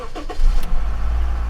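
A used car's engine cranks briefly and catches, then settles into a smooth, steady low idle rumble heard up close, with no voices over it.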